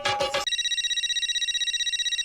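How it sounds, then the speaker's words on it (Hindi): A telephone rings with a steady electronic trill that pulses rapidly and evenly, clear and close, after a brief burst of other sound at the start. "फ्रेंड्स, पोपट अंकल का फोन है।"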